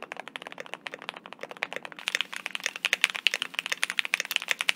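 Mechanical keyboard typed on up close: a fast, steady stream of crisp, clacky keystrokes that grows slightly busier and brighter partway through, with no voices.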